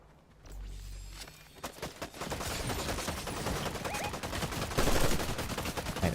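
Gunfire from the video game Fortnite, with dense, rapid bursts and overlapping volleys that build into near-continuous shooting, loud and close, with no voices.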